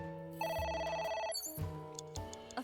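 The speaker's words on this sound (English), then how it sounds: "A phone. Should I pick it up?" An electronic telephone ringtone in the video game AI: The Somnium Files, with bright repeating tonal bursts in quick succession, fairly quiet and heard alone.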